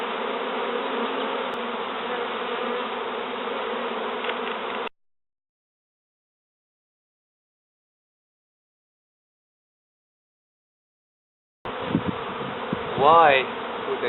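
Bees buzzing around a sofa, a close, steady droning hum in two stretches separated by several seconds of silence, with a brief louder swell near the end.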